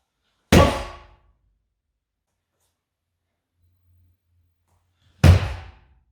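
Two heavy, sharp thuds several seconds apart as a body falls straight forward onto a mat during ukemi practice, each landing loud and close with a short decay into silence.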